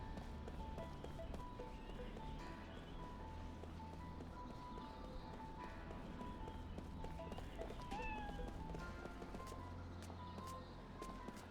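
A cat meows in the video game Lost Odyssey, soft short calls that sit faintly within a steady bed of in-game ambience.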